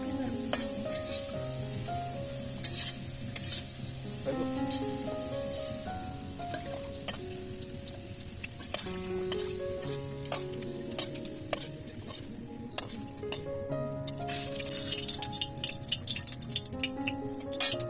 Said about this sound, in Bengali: আলুটি মোটামুটি একদম বাদামি হয়ে ভাজা হয়ে গেছে